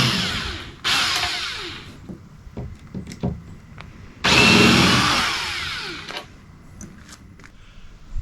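A power driver whirs in two loud bursts backing out the screws on a Minn Kota Edge trolling motor mount on a bass boat, with quieter clicks and taps between them.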